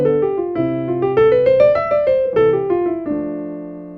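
A short melodic sequence in Mozart's style is played on a piano-like instrument, rising step by step and then falling back, with clear notes over supporting chords and a ringing final tone.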